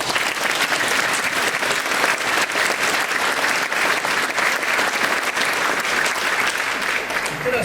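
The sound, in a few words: applause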